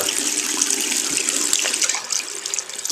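Hot tap water runs at full flow through fine fish culture nets in a sink, a steady close hiss and splash with no talking.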